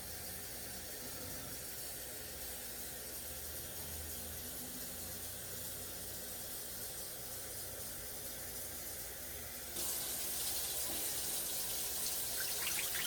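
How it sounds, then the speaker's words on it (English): Tap water running steadily into a cooking pot, about four cups, a continuous close hiss and splash that gets brighter and louder near the end as the flow increases, with no talk. "we're going to put about 4 cups of water in this pot"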